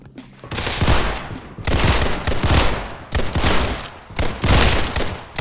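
Roblox Criminality video game gunfire: several loud bursts of rapid shots in quick succession, separated by brief pauses, close and dominant with no talk.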